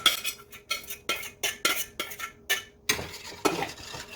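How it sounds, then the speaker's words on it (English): Soaked lentils poured into a stew pot for Ethiopian lentil stew, a run of sharp clinking, rattling pours and scrapes coming in quick bursts, close and fairly loud, with no talking. "And then I'm gonna add in that one full cup of soaked lentils."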